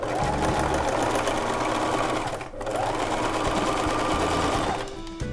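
A sewing machine stitches the shoulder seam of a blouse, running in two steady, close whirring bursts separated by a brief pause.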